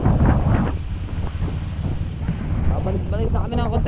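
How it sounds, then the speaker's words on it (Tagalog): A strong river or sea current rushing past a boat, heard as a loud roaring wash of water buffeted by wind noise on the microphone, with voices calling out briefly over it. "Ayun, lakasan ng agos, oh!"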